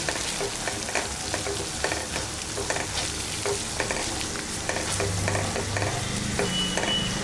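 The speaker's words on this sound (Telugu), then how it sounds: "ఇప్పుడు ఇందులో మనం హాఫ్ బాయిల్ చేసినటువంటి ఈ దొండకాయలు వేసుకోవాలి. వేసుకొని వీటికి మసాలా అంతా పట్టేటట్టుగా కాసేపు వేగనివ్వాలి." Half-boiled ivy gourd pieces frying and being stirred with masala in a pan, a steady loud sizzle with scraping stir strokes throughout, no talking.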